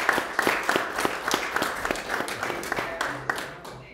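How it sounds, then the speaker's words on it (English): Small audience at a distillery tasting event clapping for a guest, a short burst of distinct, fairly close individual claps with some murmuring voices underneath. "Everybody give Morgan a round of applause."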